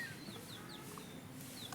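Chicks kept inside a coop peep and cluck faintly in short, high, rising chirps scattered over a low background hum. No one talks over them.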